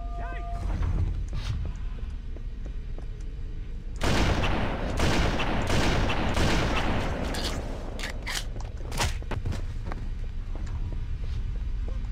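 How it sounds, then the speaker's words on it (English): Sniper rifle fire in Halo: Combat Evolved, with a few sharp, isolated cracks early on, then several seconds of loud, dense gunfire and blasts, and more single, spaced shots later. "I like that this sniper shoots really super freaking straight"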